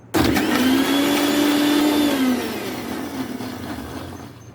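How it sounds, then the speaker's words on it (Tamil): A mixer grinder blends mint lemonade with ice, starting with a sudden loud whir and a high motor whine that eases after about two seconds into a lower steady churning roar. "மிக்ஸி ஜாரை நான் மூடிட்டு இதை நல்லா அரைச்சிப்போம்"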